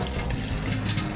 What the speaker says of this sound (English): run it under warm water